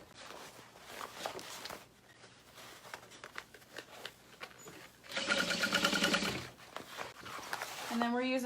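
A sewing machine stitches the lining of a fabric Tiffany bag. A short, close mechanical whir runs in bursts, with soft handling noises and quiet speech between them.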